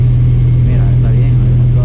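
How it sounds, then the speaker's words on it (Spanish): A pickup truck engine idles at a used-vehicle fair in Guamaní, giving a steady low hum that holds unchanged through the short stretch, with faint voices behind it. "Préndale para escuchar el motor."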